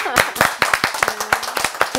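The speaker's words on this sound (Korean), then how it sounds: "우리 박수 한번 쳐드리시면" An audience at a senior academy talk in a Catholic church hall claps for firefighters, sharp uneven hand claps in a short loose burst, close and distinct, with a voice briefly audible beneath.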